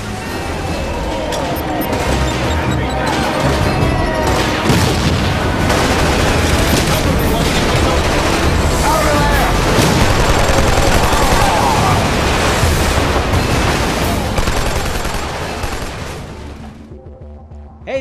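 Sustained rapid gunfire from the M82 assault rifle in a shooter video game, dense bursts and booms rolling continuously and loudly for most of the stretch before cutting off near the end.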